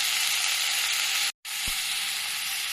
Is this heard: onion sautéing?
yes